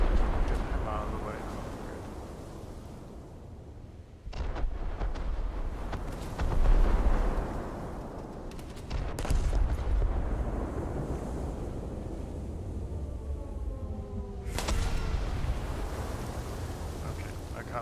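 Heavy naval gunfire in a World War II cruiser battle game, Baltimore and Helena ships engaging a battleship, with deep booming shell blasts and rumbling impacts at irregular intervals over a constant low roar, with someone talking throughout.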